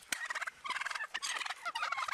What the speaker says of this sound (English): The turkeys are trying to argue.